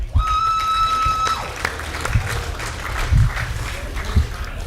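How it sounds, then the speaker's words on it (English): An audience gives a round of applause for guests at a motorsport panel chat, steady scattered clapping throughout, moderately loud with a few thumps and a brief tone at the start. "So can we please have a big round of applause?"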